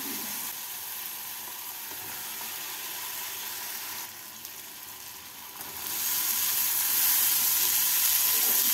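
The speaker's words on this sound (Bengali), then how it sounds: "এবারে আলু আর মটরশুঁটিগুলোকে মশলার সাথে ভালো করে মিশিয়ে নেব।" Fried potatoes and peas are stirred into a spice paste in a pan. A constant hissing sizzle dips briefly and then swells louder, with faint stirring scrapes underneath and no speech.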